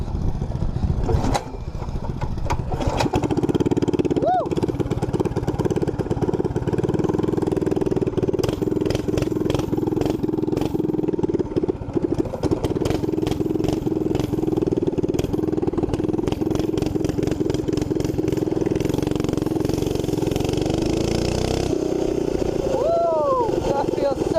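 A minibike engine runs continuously through a test ride, a loud, close buzzing drone with rising revs, gusty wind noise and a person talking over it.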